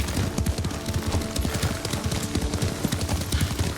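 Horse hooves clip-clopping in a rapid, steady gallop rhythm while riding in Ghost of Tsushima, close and continuous under a faint game soundscape.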